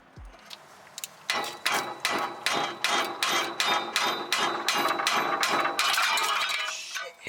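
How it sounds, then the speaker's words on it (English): A hammer drives the ball joint out of the steering knuckle on a Jaguar XJ6 in a steady series of about a dozen sharp, close metallic blows, evenly spaced and loud, with no talking. "Hammer the ball joint out."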